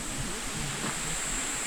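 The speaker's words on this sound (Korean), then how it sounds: "먹자골목을 벗어나면 계곡 물소리가 들려오네요" Mountain valley stream flowing steadily near a hiking trail, a continuous broadband rush of water that stays even and moderately faint throughout, with no voices.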